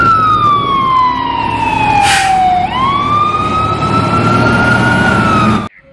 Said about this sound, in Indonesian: Yang ini truk pemadam kebakaran.